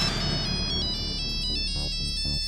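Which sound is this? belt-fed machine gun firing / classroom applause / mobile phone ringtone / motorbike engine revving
mobile phone ringtone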